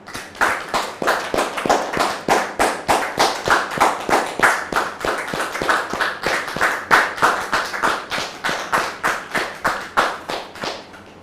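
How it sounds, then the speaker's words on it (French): A studio audience claps in steady, rhythmic unison, a long run of sharp, evenly spaced hand claps close and loud with no voices over them. "Merci public de la recevoir sous vos applaudissements."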